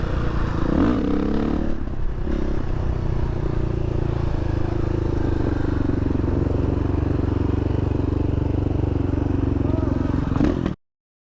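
A 2019 KTM 500 EXC-F dirt bike cruising on the highway, its engine droning steadily and loud the whole way with wind rush, then cutting off abruptly at the end.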